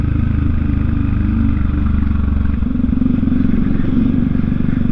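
Motorcycle engine fitted with a full exhaust, running steadily up close with a deep, throaty rumble that rises slightly in the second half, loud and continuous with no talk.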